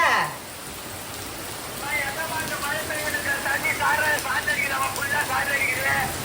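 Heavy rain pours down in a village downpour, a dense steady hiss that swells after a brief lull, while voices talk over it.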